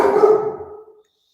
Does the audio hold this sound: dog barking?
yes